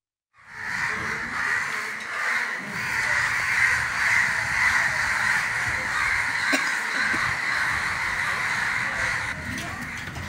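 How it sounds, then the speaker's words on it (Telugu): Hundreds of crows mob a chicken shop after one crow is tied up, a dense continuous chorus of cawing that swells and holds loud, with some speech faintly underneath. "కట్టిపడేసిన కాకి అరుపులు విన్న వందలాది కాకులు చికెన్ షాప్పై దండెత్తాయి"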